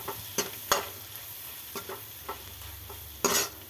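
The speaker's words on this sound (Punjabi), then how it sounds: "ਤੇ ਨਮਕ ਸਵਾਦ ਅਨੁਸਾਰ ਆਪਾਂ ਇਹਨੂੰ ਚੰਗੀ ਤਰ੍ਹਾਂ ਮਿਕਸ ਕਰ ਲਓ" A spoon stirs fried onion masala with red chili and salt in a pan, giving a few scattered scrapes and taps over a faint, steady sizzle, with no talk.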